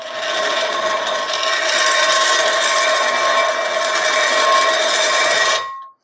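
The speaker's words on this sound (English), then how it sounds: "you can use your pry bar's flat edge as kind of a tool, as kind of a scraper" Loud, continuous metallic scraping and rasping for several seconds as a pry bar's flat edge scrapes a Ram 2500 HD front brake caliper, steady and close, then stopping abruptly.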